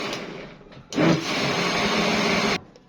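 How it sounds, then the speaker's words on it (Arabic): A blender purées cooked, cooled bessara (Egyptian fava bean dish); it kicks on with a loud, whirring motor roar, runs steadily for a second and a half, then cuts off, close by. "هي بردت، هنضربها في الخلاط"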